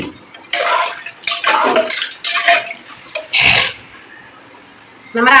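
Water poured from a small tumbler into a pressure cooker at home, several short splashing pours in quick succession, close and fairly loud, with brief pauses between them.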